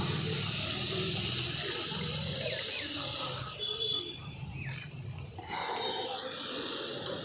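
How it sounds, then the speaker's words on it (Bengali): Water poured from a cup into uncooked rice in a cooking pot, a continuous splashing pour that briefly thins out midway before resuming. "এই দেখুন 3 কাপ জল দিয়ে দিচ্ছি।"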